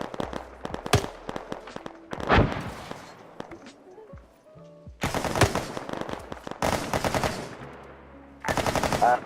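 Gunfire in a military video game comes in bursts of loud, sharp shots and rapid automatic fire, broken by quieter gaps with a few distant pops.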